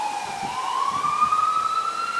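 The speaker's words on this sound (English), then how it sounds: "I'm going to wait for the ambulance to pass by." An ambulance siren passes by outdoors at a park ribbon-cutting: a single steady wailing tone climbs slowly in pitch, loud and clear over faint background murmur.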